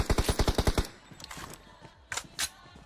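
An M249 light machine gun fires a rapid burst of about eight rounds in PUBG Mobile, loud and close, followed by scattered fainter shots and impacts.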